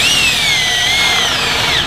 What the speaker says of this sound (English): I'm going to drill until that point comes through